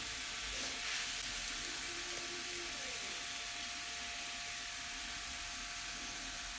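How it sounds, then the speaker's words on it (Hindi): Mooli paratha frying in oil in a pan, a steady soft sizzle running throughout with a faint background hum, no voices. "हमने ऑयल के अंदर बनाया है। अच्छी तरह से इसको पका लेंगे दोनों साइड से।"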